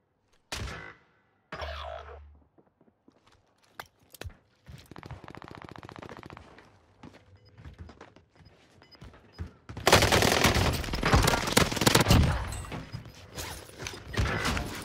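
Gunfire in the battle royale game Warzone Rebirth, scattered single shots and mechanical clicks building into a loud, sustained burst of rapid automatic fire near the end.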